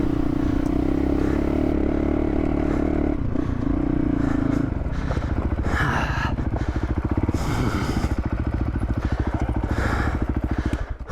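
Dirt bike with a sticking throttle climbing a rough trail in Colorado, its engine droning steadily and then breaking into clattering, pulsing revs with scraping and thumps, loud and close with no talking.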